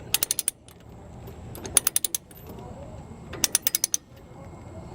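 A Durabilt ratchet chain binder is cranked with its T-handle, giving rapid bursts of sharp metallic pawl clicks in three separate groups, close and crisp over a faint background.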